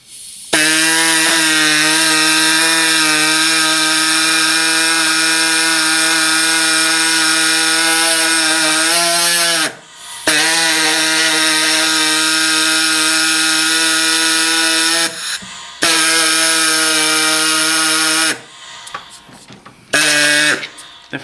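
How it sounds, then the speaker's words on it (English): Power saw fitted with a coarse blade cutting through an LSx intake manifold, a loud, sustained high-pitched buzzing whine in long continuous passes, broken by brief pauses between cuts. "how quick it cuts through with using the coarse blade"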